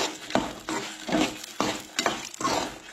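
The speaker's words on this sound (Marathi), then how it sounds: "आता भितर ऍड करूया म्हटल्यार मिरसांगो, आणि ते बीन हलकेशे अशे भाजून घेवंक जाय।" Chillies are lightly roasted with spices in a pan for a Goan festive thali, heard as a steady rhythm of close scraping stirs, about six strokes, with faint clinks over a soft sizzle.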